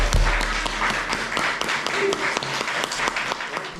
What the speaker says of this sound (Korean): 여러분 우리 모두를 위해서 마치는 박수를 치도록 하겠습니다